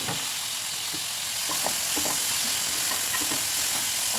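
Tomatoes frying in an oil-filled pan with curry leaves for avalakki chitranna, giving a steady, close, dense sizzle with small crackles and pops throughout.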